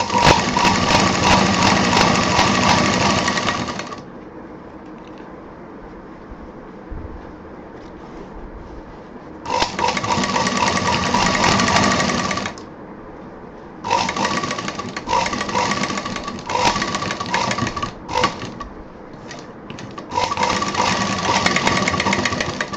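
Sewing machine stitching along the side fabric of a handbag, running in loud steady bursts of several seconds, then shorter stop-start runs, with quiet pauses between them.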